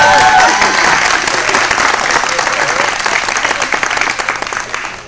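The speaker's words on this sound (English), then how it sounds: "give yourselves a round of applause" Strong, loud audience applause at a sports grant award ceremony, a thick wash of many hands clapping steadily for several seconds and tapering slightly at the end, with faint voices underneath.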